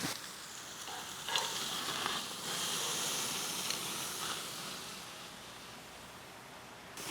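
Steak topped with butter sizzling in a pan on the burner for steak au poivre, a steady, close frying hiss that swells briefly and runs unbroken with no talk.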